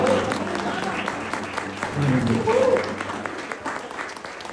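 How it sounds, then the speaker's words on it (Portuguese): Congregation applause in a church service, a steady wash of clapping under sustained voices and background tones, moderately loud and continuous throughout. "Glorifiquem a Jesus com uma salva de palmas."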